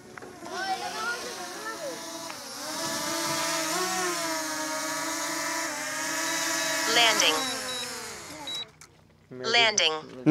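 A DJI Mini 4K drone flies over a village, its rotors giving a close, steady high whine that shifts in pitch as it manoeuvres, then drops away near the end, with a person talking nearby.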